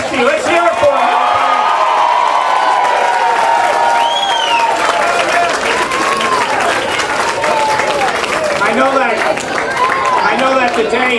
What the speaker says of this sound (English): Let's give a tremendous round of applause to our Governor Chris Christie.